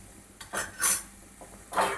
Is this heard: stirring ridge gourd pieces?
yes